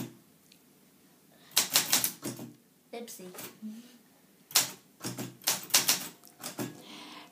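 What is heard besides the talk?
typing on a typewriter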